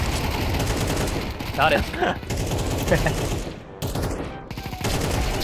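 Rapid gunshots in a video game crackle as dense, sustained fire with a few brief gaps, while a voice speaks briefly over the din.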